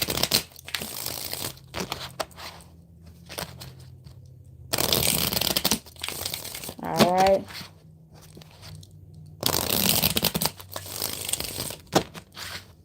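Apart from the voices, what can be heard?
shuffling a deck of tarot cards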